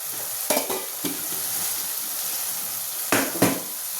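Chilli powder, turmeric and masala fry in oil in a pan, a continuous close sizzle broken by a few louder stirring scrapes.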